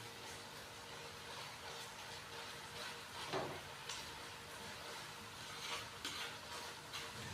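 Tomatoes frying in a cooking pan for Bhuni Moong Daal, pressed down with a spoon: a faint, steady sizzle with occasional soft scraping and stirring strokes.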